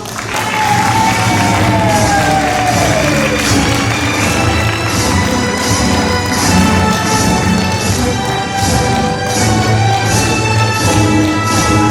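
Crowd applause and cheering at a graduation ceremony of a Bible theology institute, sustained and loud throughout, a dense wash of clapping with voices rising over it and no break.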